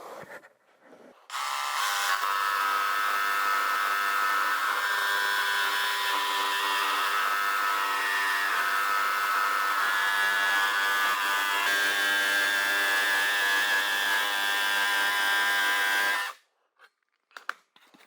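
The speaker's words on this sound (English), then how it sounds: "I'm ready to cut this out now, and I'm using a jigsaw with a regular wood cutting blade." A jigsaw fitted with a regular wood-cutting blade cuts out a pattern, running as a steady, loud buzzing rasp for about fifteen seconds, then stopping, with a few faint handling clicks afterward and no talking.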